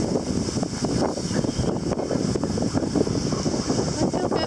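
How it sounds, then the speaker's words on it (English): Steady wind rushes and buffets across the whole stretch on a boat beside a dinghy, a continuous broadband roar with no voices. "It's a little bit of wind."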